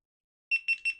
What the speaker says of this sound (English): Once you hear the beep sound, you can just release the button and the GoPro will turn on.